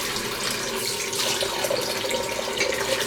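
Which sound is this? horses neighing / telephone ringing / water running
water running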